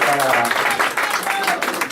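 Congregation applause during a church service, a brief burst of clapping from the assembly heard under and alongside a speaking voice, fairly loud and close.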